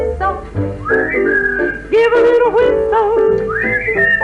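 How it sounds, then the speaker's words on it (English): A person whistles a lilting melody, rising and falling in clear sustained notes with short gliding slides, loud and close with no talking. "give a little whistle"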